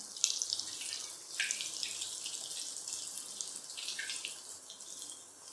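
Paneer rolls for crispy paneer fingers sizzle in hot oil as they go into the pan, a steady bright hiss with soft crackling bursts.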